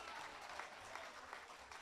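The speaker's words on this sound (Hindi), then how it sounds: "एक बार पूरा सदन मिलकर तालियां बजाए" An audience at a Hindi poetry recital, a kavi sammelan, claps together in steady, dense applause, faint and distant throughout, with no speech over it.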